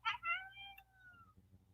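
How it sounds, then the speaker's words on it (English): Two house cats fighting indoors, giving a couple of loud, close, harsh meowing yowls in quick succession, then a long drawn-out wail that trails off over quiet room noise. "My cats are fighting, if y'all hear that."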